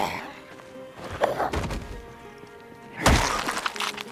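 A weapon breaks in the video game Project Zomboid, sharp shattering cracks and thunks, a few separate impacts with the loudest crash near the end, a voice faintly present.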